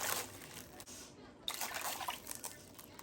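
Three cups of water poured into a crock pot over chopped chicken breasts, a soft trickling splash that pauses briefly midway, then resumes a little louder and steadier.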